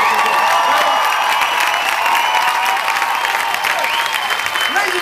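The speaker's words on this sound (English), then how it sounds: "please give a massive round of applause to Linda Wires" Sustained applause from a stand-up comedy audience, loud and steady clapping with a few voices mixed in.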